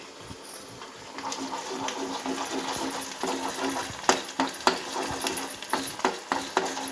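Green chillies, dried chillies and ginger-garlic paste frying in a pan. A continuous close sizzle runs throughout, with irregular scraping and clinking of a stirring spoon growing busier toward the end.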